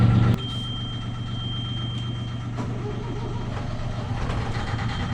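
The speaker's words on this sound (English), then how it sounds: "Engine number 1." Onboard a sailboat, engine number 1 runs at a steady, low idling rumble after a short louder start, with a thin whine on top and faint knocks heard close by.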